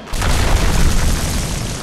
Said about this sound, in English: I got the Biju Bomb on them.